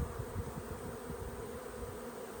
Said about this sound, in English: The only reason I'm going over here is a lot of bees here for some reason.